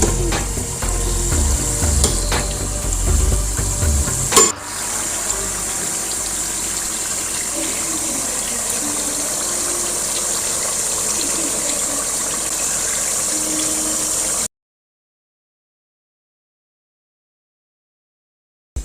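Chicken sauce with added salt being stirred in a pot, a steady sizzling, bubbling hiss with stirring scrapes throughout, a sharp clank near the start, then the sound cuts to silence.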